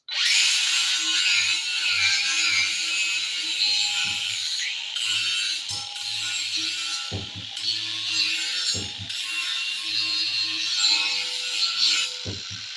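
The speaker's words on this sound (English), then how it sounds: "now I'm smoothing it up with an 80 grit paddle wheel" An 80 grit flap paddle wheel sands metal on a tractor attachment build, a loud continuous abrasive whir that holds steady throughout, broken by a few brief dips as the tool lifts off and bites again.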